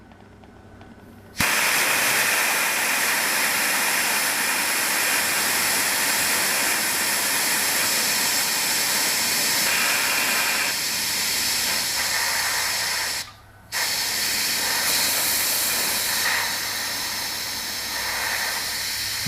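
Compressed air rushing out of a Bostitch 150 psi 6-gallon pancake compressor, a loud continuous hiss lasting many seconds with one brief cutoff partway through before the release resumes.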